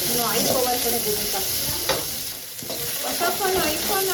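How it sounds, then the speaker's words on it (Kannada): Masala and curry leaves frying in a pan for a tempering, with a steady close sizzle broken by the scrape and clatter of stirring throughout. "ಕರಿಬೇವು ಇದನ್ನು ಚೆನ್ನಾಗಿ ಎಲ್ಲ ಫ್ರೈ ಮಾಡ್ಕೊಳ್ಬೇಕು."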